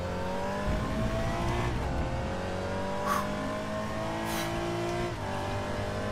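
Race cars in the RaceRoom racing game at the Red Bull Ring drone together in a pack, engines revving and shifting gears loudly and continuously, with brief higher whines passing through.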